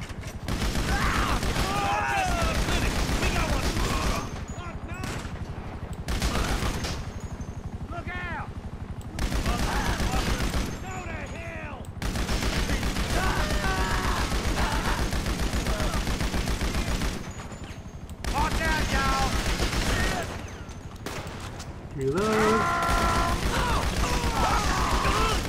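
Rapid bursts of automatic machine gun fire in a GTA 5 Online shootout, loud sustained volleys broken by short pauses, with someone talking over the gunfire.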